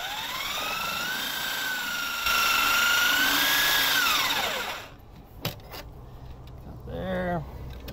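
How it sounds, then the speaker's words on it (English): A Sawzall reciprocating saw cuts through a plastic wiper on an RV slide-out, whining loud and close with rising then falling pitch for several seconds before stopping, followed by a few knocks and a short buzz. "Just basically putting the Sawzall in here."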